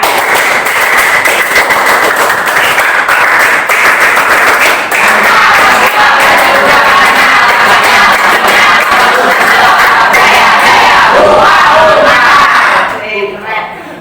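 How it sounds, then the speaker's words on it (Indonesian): A classroom of students performing the rhythmic Indonesian scout clap, tepuk pramuka, three times in a row: dense, loud clapping from many hands that runs continuously and stops abruptly near the end. "Coba sekarang 3 kali tepuk pramuka"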